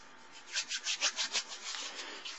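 Brushing strokes as loose sand is rubbed off a small Halloween skeleton miniature diorama craft piece, about six quick, even swipes close by, then a softer continuous scrubbing, with no talking.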